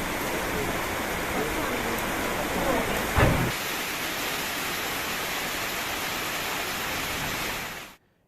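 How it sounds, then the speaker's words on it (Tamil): Heavy rain driven by strong wind sweeps over Kanyakumari and Nagercoil in the morning, a dense, loud, steady hiss with a brief louder gust or splash midway before cutting off abruptly near the end. "கன்னியாகுமரி, நாகர்கோவில், திங்கள் சந்தை உள்ளிட்ட இடங்களில் இன்று காலை பலத்த காற்றுடன் கனமழை பெய்தது."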